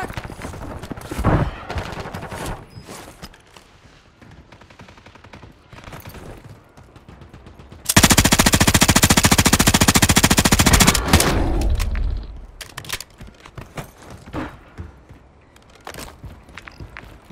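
Call of Duty Warzone battle royale gameplay with sharp scattered gunshots and footsteps, then a loud sustained burst of automatic gunfire lasting several seconds before tapering back to sporadic shots.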